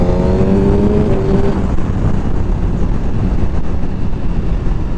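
A Suzuki GSX-R1000R sportbike engine roars steadily and loud up toward the red line, a dense continuous drone with wind noise, no voices.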